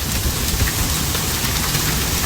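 Heavy, steady rain pours down during a severe thunderstorm with strong wind gusts and hail in northern Illinois near Chicago, a dense continuous hiss with a low rumbling undertone and no clear thunderclap.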